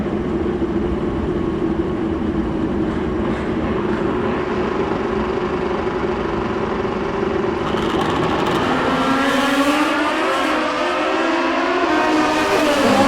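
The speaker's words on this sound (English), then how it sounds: "Gorgeous KZ powered drag bike down there." A Kawasaki KZ-powered drag bike built on a 1990 ZX10 runs down the strip at a drag racing finals, its engine a loud, sustained wail that climbs in pitch through gear changes.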